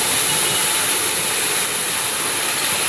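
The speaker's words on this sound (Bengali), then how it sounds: "ফোড়নটা একটু ফুটে উঠলে পেঁয়াজ বাটাটা দিয়ে দিচ্ছি" Loud, steady hiss of onion paste sizzling in hot oil with white cumin tempering, a dense continuous crackle filling the whole clip without pause.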